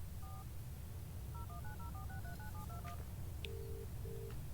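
In the video game Broken Sword 3: The Sleeping Dragon, a quick run of touch-tone dialing beeps, a steady series of short tones followed by two longer ringback tones, over a low background hum.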